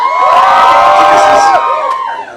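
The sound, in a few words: audience screaming and cheering on request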